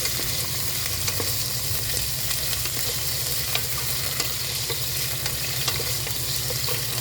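Igado, a Filipino pork and liver dish, is stirred in a frying pan, giving a steady close sizzle with faint scraping throughout and no talking.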